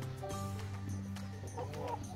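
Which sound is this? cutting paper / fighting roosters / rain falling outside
fighting roosters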